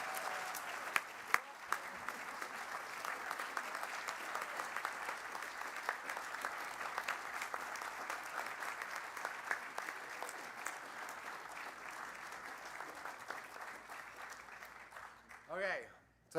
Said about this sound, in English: Could I ask everyone to join me in giving a round of applause to Beth?